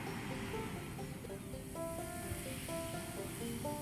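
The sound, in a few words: ocean waves on beach in the film Roma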